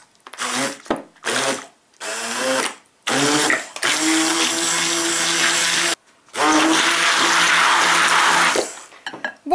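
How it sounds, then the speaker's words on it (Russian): A handheld blender whips a sour cream mixture for an anthill-style cookie cake, loud whirring bursts separated by short pauses, then two long sustained runs with a steady motor hum, close and without talk. "И теперь начинаю взбивать блендером."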